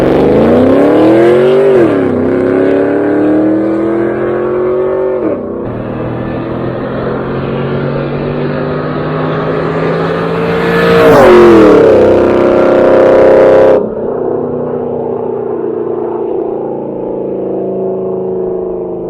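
A modified 2002 Camaro SS with freshly installed gears makes a quarter-mile run, its engine loudly revving up through several gear changes with rising pitch and brief drops between shifts. The car is heard close, with no talk.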